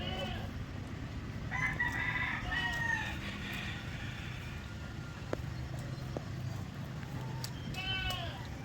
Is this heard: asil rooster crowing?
yes